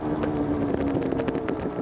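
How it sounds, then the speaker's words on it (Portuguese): A Yamaha DTR 125 two-stroke motorcycle engine runs close by with a raspy, buzzing note and rapid crackling pulses throughout a short burst. "Este som característico das motos a 2 tempos é inigualável"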